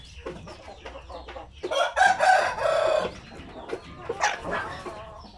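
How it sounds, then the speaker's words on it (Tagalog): Native Bisaya chickens, along with a crossbreed, crow and cluck on a poultry farm. Scattered clucks lead into a loud, drawn-out crow, then more clucking and another crow, close by with no voices. "ito naman na mga manok na ito po yung mga mga tinatawag natin na mga Bisaya na manok"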